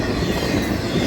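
A Florida East Coast Railway freight train rolls past close by at night in July, giving a loud, continuous rumble of wagons with clattering wheels and no voices.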